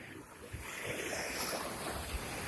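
Ocean surf at Ujong Lhok Geulumpang beach near Calang, Aceh Jaya, a steady broad wash of waves with wind buffeting the microphone, a couple of low thumps, no talk.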